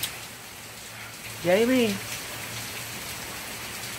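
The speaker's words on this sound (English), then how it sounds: "As you can probably hear, yes, pouring down rain again." Heavy rain pours down outdoors in a steady, even hiss that lasts throughout, with a person briefly speaking over it.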